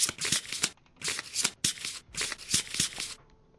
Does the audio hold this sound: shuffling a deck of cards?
yes